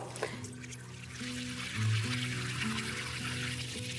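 Soaked almonds rinsed in water for an Ouzi recipe, a steady trickling, pouring wash of liquid close by over a low background hum, with no talking.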